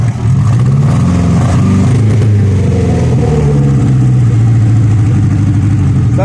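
A 1963 Austin Healey Sprite engine with a straight header runs loud and close, a raw, rumbling idle with uneven throttle blips throughout, and no voices.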